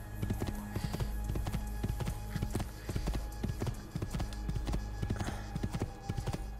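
Horse hooves gallop in a steady, rapid clip-clop rhythm in the Assassin's Creed II video game, loud and close, running continuously for the whole stretch with faint game ambience underneath.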